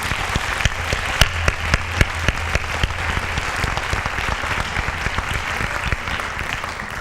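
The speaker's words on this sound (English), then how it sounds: "you really need to give your parents a round of applause" A senior awards ceremony audience applauds the parents with steady, sustained clapping, a few sharp individual claps standing out near the front of the sound.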